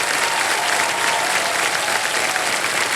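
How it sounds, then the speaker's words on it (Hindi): Steady, loud applause from a television quiz show studio audience, a dense wash of clapping that holds evenly for the full three seconds with no voices over it. "एक बार जोरदार तालियां बज जाएं इनके परिवार के लिए"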